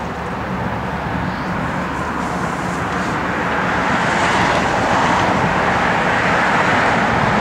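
1964 Chevrolet Nova with a 4-speed manual driving on the road, a steady engine drone and tyre and wind noise that swells slightly louder as the car gathers speed.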